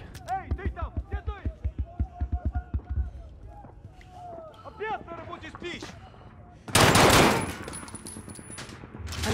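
Pistol fire in the video game Modern Warfare: a loud, dense burst of shots stands out near the end, after a run of rhythmic thumping footsteps and scattered game voices and effects.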